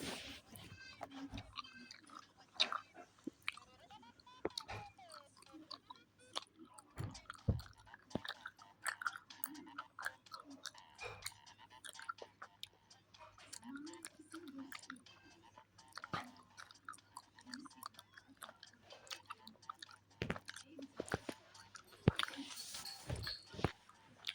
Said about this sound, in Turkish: Arkadaşlar sakız çiğniyorum.